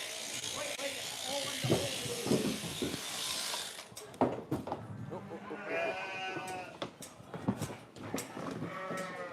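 Sheep being shorn with hand blade shears during winter-style shearing on a farm, a mix of snipping blade sounds and sheep movement, with someone talking over it and a brief buzzing stretch midway.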